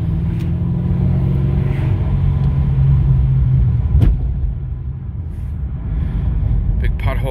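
Steady low V8 rumble from a 2016 Chevy SS fitted with an American Racing header-back exhaust, heard from inside while driving, fairly mild in volume, with a thump over a road bump partway through and a voice talking over it.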